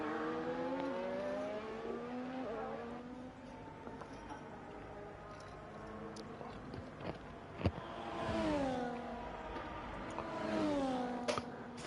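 F1 cars at the Mexican Grand Prix in a racing video game, high engine whines rising and falling through a set of corners, with several gear shifts and a couple of sharp clicks over steady background hum.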